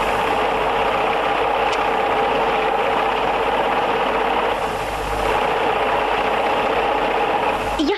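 A sewing machine stitches cloth with a steady, continuous motor whir and mechanical drone that runs unbroken throughout.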